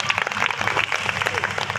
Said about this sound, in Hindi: तालियां बजाइए, मैंने अच्छी बात कही है।